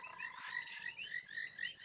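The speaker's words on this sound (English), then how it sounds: "I love coming and sitting and listening to the frogs calling like this." A chorus of frogs croaking and trilling after rain from puddles at sunset on safari, continuous at moderate volume, many overlapping calls with a steady pulsing rhythm, no voices.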